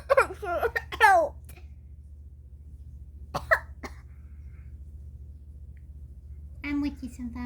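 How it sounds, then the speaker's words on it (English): A child's cough and throat clearing in a playful doctor game, a couple of short coughing bursts between stretches of nearby talk, with quiet pauses and a low steady hum underneath. "Oh, I brought my cough with me."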